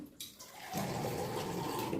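Water pours steadily into a bowl, a continuous close splashing rush that starts abruptly and keeps going without pause.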